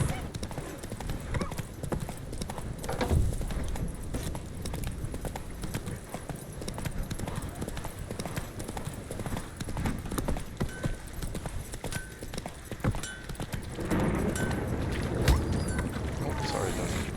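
Horse hooves clip-clop steadily in a video game, the horse's footfalls carrying on throughout the clip over a layer of game ambience, with a brief whinny-like sound and light background noise.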